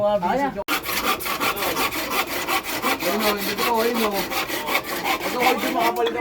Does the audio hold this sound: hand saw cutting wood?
yes